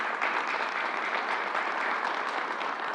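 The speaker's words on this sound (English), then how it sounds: "Let's give her another round of applause." Audience at a press event in New York City clapping in a steady, even burst of applause, close and sustained at a constant level with no talk over it.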